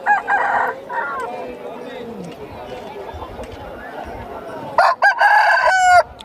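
An Aseel rooster at the Balrampur market in West Bengal crows loudly twice, once at the start and again near the end, over a busy murmur of market chatter and voices.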